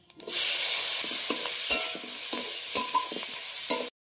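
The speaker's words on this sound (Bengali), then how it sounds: "ভাজার তেলে পেঁয়াজগুলো দিয়ে দেব।" Onions sizzle steadily in hot frying oil that has just cooked eggs, a bright continuous hiss broken by several soft scraping stirs, close and alone with no talking.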